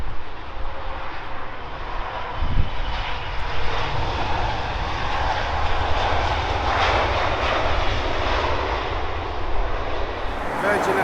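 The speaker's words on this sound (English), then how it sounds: "A350 from JFK, it's the 10 series." Virgin Atlantic Airbus A350-1000 jet airliner at London Heathrow, arriving from JFK, with a steady loud engine roar and rushing air that holds throughout, under occasional talk.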